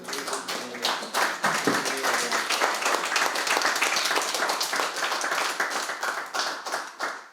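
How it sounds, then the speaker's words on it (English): Audience at a Bhakti Yoga Center talk breaks into dense, steady applause that carries at full strength for about seven seconds, with many hands clapping close together and no voices. "How about a round of applause?"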